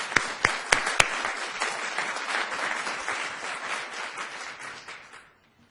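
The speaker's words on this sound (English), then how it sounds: "just one more round of applause for all of our competitors" An audience applauds the competitors at a moot court competition final on energy and sustainability. A few sharp, close claps open a dense, steady applause that fades out near the end.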